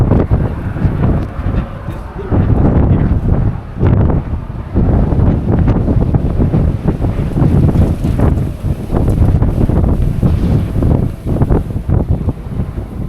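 Strong wind during a dust storm on a road where visibility is nearly gone, roaring hard into the microphone in loud, gusting buffets that rise and drop throughout.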